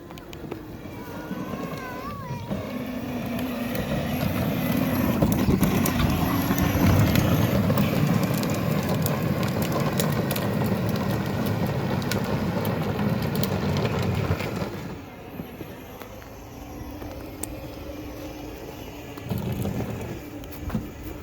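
Modified widebody Power Wheels Corvette C7 ride-on toy car with 3D printed parts driving a lap around a house, a steady electric motor whine and rolling drone that builds, holds, then drops away, with a voice talking over it.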